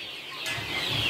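Breeder hens cluck on a farm in a brief, close burst of fowl noise over a steady background hum.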